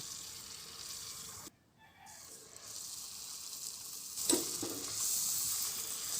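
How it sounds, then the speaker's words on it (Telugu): A puri fries in hot oil while a ladle presses it lightly, giving a quiet, steady sizzle with a short lull and a slightly louder bubbling surge later on. "పూరి నూనెలో వేసిన వెంటనే గరిటతో ఈ విధంగా లైట్గా ప్రెస్ లైట్గా మాత్రమే ప్రెస్ చేయాలి"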